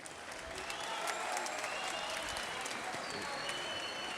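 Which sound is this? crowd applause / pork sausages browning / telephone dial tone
crowd applause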